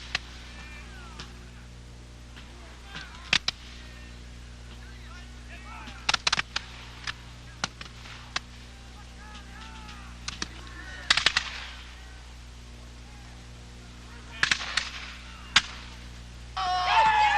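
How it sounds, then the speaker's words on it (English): Musket volleys and cannon fire at a Revolutionary War re-enactment of the Battle of Bennington, 1777, Colonials against British: sharp irregular gunshots and bursts scattered through the clip over a steady outdoor background, with a few heavier booms. "The firing between the Colonials and the British continued at a furious pace"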